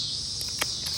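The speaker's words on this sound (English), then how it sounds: "the cicadas are getting kind of loud" Cicadas drone loudly outdoors in a garden, a continuous high buzzing that fills the whole second, with a few soft taps and rustles close by.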